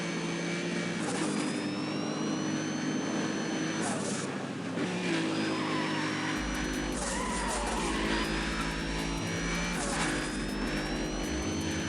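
Lamborghini Punto in the NFS World racing game, steady loud engine whine with gear changes and tire squeals across several corners, no talk.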